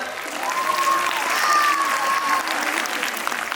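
Audience applause at a school annual function, a steady wash of clapping from a large crowd that swells and holds for several seconds, with a faint voice or tone drifting over it.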